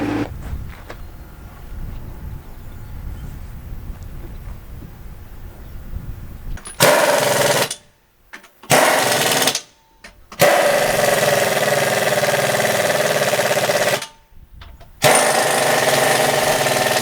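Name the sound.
tractor engine running before raking hay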